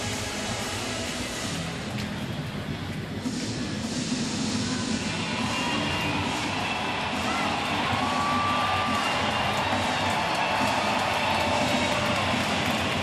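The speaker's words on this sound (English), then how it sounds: "So crowd getting into it here at the stadium" A crowd at Yankee Stadium during a Brewers vs Yankees baseball game roars and cheers steadily, swelling as the Yankees threaten with runners on base in the first inning, a broad wash of noise with no clear speech.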